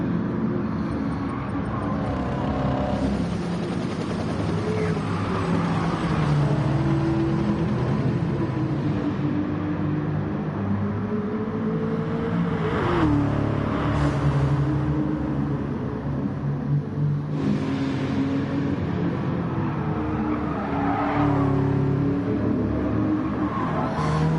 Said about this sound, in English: One of the more comical cars that they have in here for racing is the old Volkswagen bus.